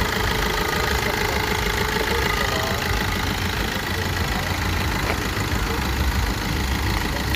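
A 2006 manual car with a 1.3-litre diesel engine idles at a car market, a steady, close mechanical clatter running throughout with faint background activity.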